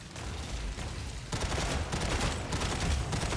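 Dense, continuous gunfire from mechs in the Mech Arena video game, a steady loud rattle of incoming shots that swells louder partway through and keeps going to the end.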